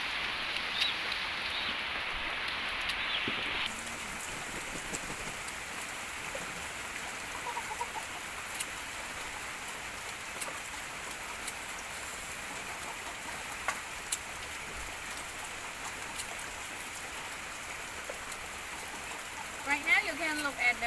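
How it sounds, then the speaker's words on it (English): Steady rain patters outside, a soft continuous hiss with occasional drips, and a faint bird call near the end. "The weather is raining now"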